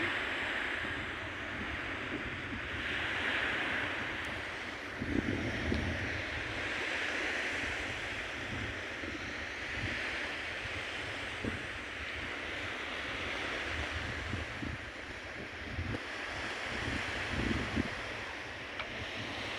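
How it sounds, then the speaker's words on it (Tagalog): Ocean waves wash onto Jumeirah beach in a steady, soft roar, with gusts of wind buffeting the microphone. "So, papakita ko sa inyo ang alon."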